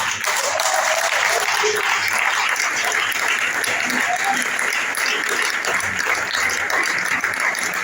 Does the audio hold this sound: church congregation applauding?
yes